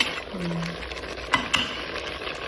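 Biryani masala fries in oil in a pan while being stirred, giving a steady close sizzle with a couple of sharp spoon scrapes against the pan.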